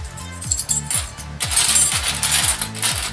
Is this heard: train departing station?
no